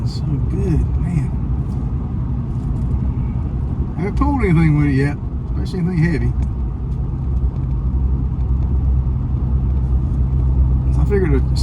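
A new diesel pickup truck's engine runs steadily as a low, continuous rumble beneath someone talking inside the cab, the drone constant throughout with light road noise.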